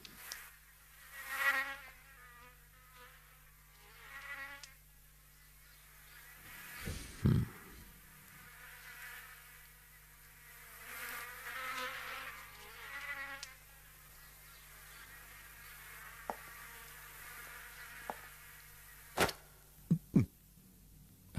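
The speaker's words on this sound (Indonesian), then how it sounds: "Nyamuk" A thin mosquito whine drones steadily in a quiet room, rising and fading as the insect drifts closer and farther, with a few sharp knocks and thumps breaking in near the middle and toward the end.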